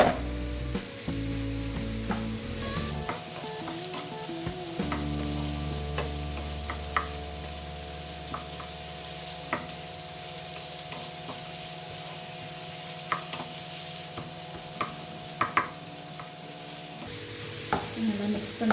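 Chopped onion and tomato sizzle and fry steadily in a pan at moderate volume, with occasional stirring clicks and scrapes and a low steady hum underneath.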